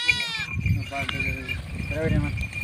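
Several pregnant sheep bleat in wavering calls amid rustling and people talking nearby on a farm in Mancherial district, Telangana, with the bleats rising and falling over a couple of seconds.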